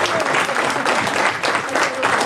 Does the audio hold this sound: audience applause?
yes